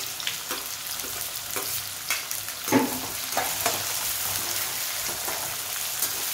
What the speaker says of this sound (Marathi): आता यामध्येच आपण कांदा टाकून घेऊया